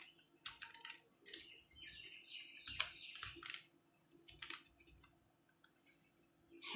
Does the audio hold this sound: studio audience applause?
no